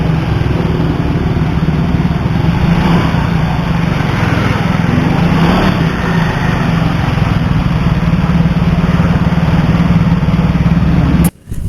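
Yamaha Fino FI fuel-injected scooter engine running and revving steadily after a fix for stuttering at 3000-4000 RPM, a loud, close, continuous drone that cuts off sharply at the end.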